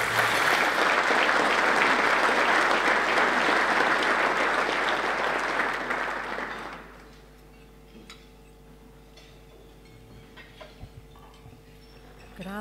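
Luncheon audience applauds the Premier with dense, sustained clapping that fills the room for several seconds, then fades away into quiet room tone and small clatter.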